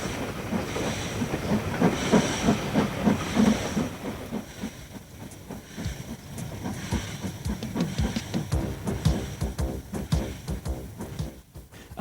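A steam train hauled by the South Eastern, with a locomotive at each end, pulls away on a rural line, hissing steam and chuffing, then rolling wagons clatter past in rhythmic clickety-clack at moderate distance.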